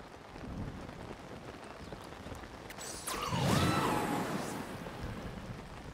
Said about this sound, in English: It's raining, so climbing may be an issue.